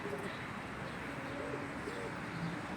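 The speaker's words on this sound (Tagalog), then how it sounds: "Ay, ang daming ibon. Puntahan natin sila. Mga kalapate!" Pigeons coo softly and repeatedly against a noisy outdoor background, with no one speaking.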